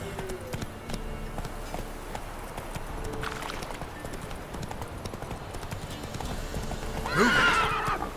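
A horse galloping in The Witcher 3, with steady rhythmic hoofbeats throughout and a loud whinny near the end, while a voice calls out over the hooves.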